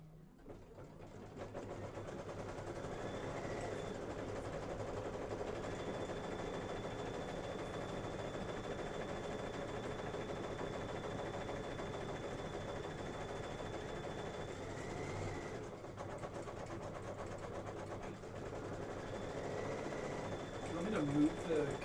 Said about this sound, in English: sew our buttonhole.